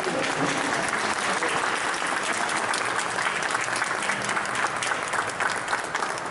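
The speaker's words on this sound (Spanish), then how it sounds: "les pido un aplauso para el autor" At an awards ceremony, a crowd gives the honored author a long, full round of applause, with dense, even clapping that stays strong throughout without any talking over it.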